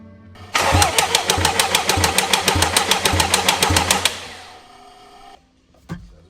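A Jaguar XF engine cranking on the starter motor with a rapid, rhythmic mechanical chug for several seconds, then catching or cutting off into a low fading hum, followed by a single click.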